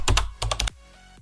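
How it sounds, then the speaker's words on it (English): Fingers tapping a computer keyboard in a quick burst of about five close, crisp keystrokes, then quiet. "just type tubitv.com in your search bar"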